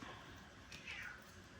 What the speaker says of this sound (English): I hear my black kitty in the background. He's my squaller.